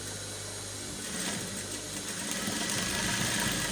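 Sewing machine stitching waistcoat fabric, a continuous mechanical hum with a steady motor drone that swells slightly partway through and runs without speech.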